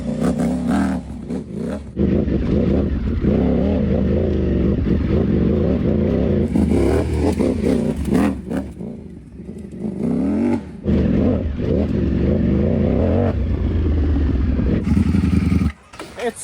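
A Ducati V4 Panigale sportbike rebuilt for off-road use and fitted with knobby tires, with a modified exhaust, ridden along a dirt trail: a loud, continuous engine roar with surges and dips in revs, plus some rattling and scraping.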